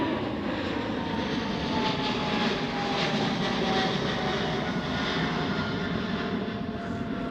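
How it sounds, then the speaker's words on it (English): A KLM Boeing 777 climbing out after departure from Schiphol, a sustained, fairly loud jet roar with a thin high whine, holding steady for several seconds before easing slightly at the end. "There's the KLM 777 that just departed."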